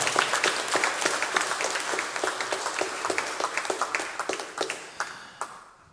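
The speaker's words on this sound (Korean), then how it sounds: "우리 다시 한번 다 같이 영광의 박수 우리 주님께 올려드리겠습니다" A church congregation applauds in praise of the Lord during a Korean worship service, dense sustained clapping that fills the room and slowly thins to a few scattered claps at the end.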